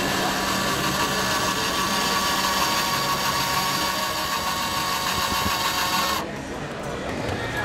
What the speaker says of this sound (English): you can extremely test your mobile phone, for example, by drilling.